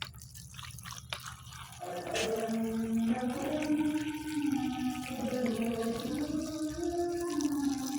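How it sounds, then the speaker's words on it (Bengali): Warm milk poured slowly over chitoi pitha, a steady close liquid trickle that starts after a couple of brief clinks and keeps running with faint gurgling, no talk. "এবার আমি পিঠার মধ্যে দুধটা আস্তে ধীরে ঢেলে নিব। দুধটা এখনও গরম আছে।"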